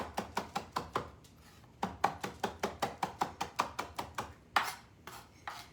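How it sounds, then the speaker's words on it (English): A knife finely mincing vegetables for hidden-veggie turkey meatballs, knocking on a cutting board in fast, even bursts of sharp taps, close and crisp, with short pauses between the runs and nobody speaking. "The hand just keeps the force of the knife going through the food."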